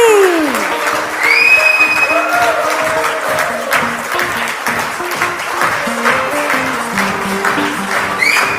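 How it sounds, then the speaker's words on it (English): A large crowd gives a huge round of applause to welcome cricketer MS Dhoni onstage, loud and sustained, with music playing along and occasional cheers rising from the audience. "welcome him with a huge round of applause."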